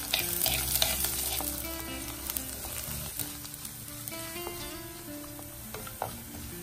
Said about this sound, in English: Then add the garlic. Mix until it becomes light brown color.